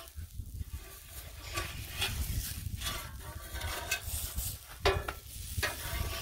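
Pizza with homemade sauce and melted cheese sizzles on a hot Blackstone griddle, with soft scraping as it is slid and spun around the flat-top, a steady frying hiss throughout.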